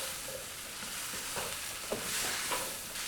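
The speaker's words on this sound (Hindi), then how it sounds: "वेजिटेबल्स को हमने यहाँ पर प्याज और टमाटर के साथ अच्छी तरह से भून लेना है।" Sliced vegetables frying with onion and tomato in a pan for a macaroni dish, a steady dense sizzle with a few stirring scrapes and clinks, close and continuous throughout.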